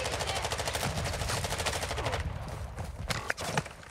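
Gunfire from Call of Duty Modern Warfare II in DMZ mode: a sustained, dense automatic burst for about two seconds, then sparser scattered shots, moderately loud with a muffled, distant quality and no clear talk.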